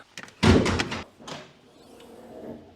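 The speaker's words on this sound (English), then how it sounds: "Alright, so now let's open up the hood." The hood of a BMW M2 is opened with a loud, close thudding clunk lasting about half a second, followed by softer rustling and faint mechanical noise.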